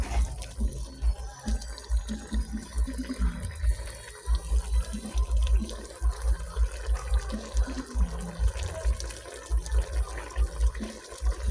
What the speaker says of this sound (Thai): เดือดจัดเลยครับตอนนี้